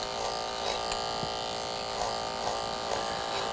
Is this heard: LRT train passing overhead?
no